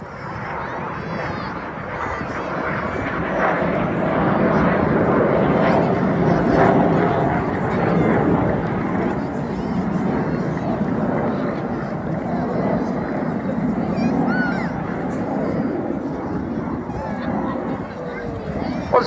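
Aerobatic display jets fly over Swansea Bay at an air show, a steady distant engine roar beneath continuous loud crowd and commentator talk.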